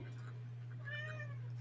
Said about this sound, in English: I keep hearing a cat. Does anybody else hear a cat?